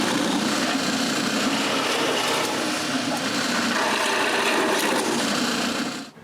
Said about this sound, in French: J'utilise mon patron pour marquer où percer les trous et je les perce.